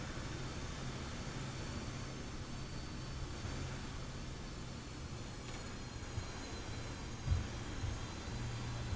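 An Antonov An-225 in a flight simulator taxis slowly across the confined apron at Stansted, a steady low engine drone and rumble with a brief thump near the end.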